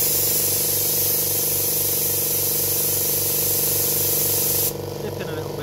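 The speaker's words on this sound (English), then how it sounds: "I'm just going to let out a little bit of air on the trigger here" Compressed air hisses steadily from the trigger of a Kiei 25-litre 8 CFM compressor, a loud continuous spray over a pulsing engine drone that drops in level near the end.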